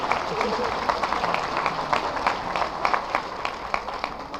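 An audience applauds a speaker at a formal event, a steady wash of claps that keeps going the whole time, with voices heard under it.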